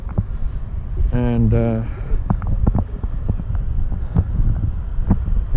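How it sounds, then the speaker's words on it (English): Gusting wind buffets a microphone outdoors at a paramotor flying site, a heavy low rumble running steadily throughout while someone talks over it. "feel that wind, this is not good."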